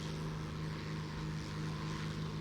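A Heinkel He 111 bomber's engines in War Thunder drone steadily, a loud continuous propeller hum with a strong low tone that holds unchanged throughout, with no voice over it.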